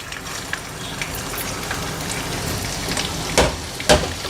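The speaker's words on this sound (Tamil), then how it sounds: "எண்ணெயும் நெய்யும் சூடானதும் நம்ம இஞ்சியை சேர்த்துக்கலாம்." Ginger frying in hot ghee and oil, giving a steady close crackling sizzle throughout, with two sharper spits near the end.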